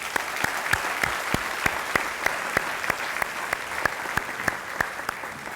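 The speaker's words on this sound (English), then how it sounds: "Would you give them a round of applause?" Steady audience applause at an annual charity meeting for newly named board members, sustained clapping from a crowd at a constant level, with loud individual claps standing out near the front.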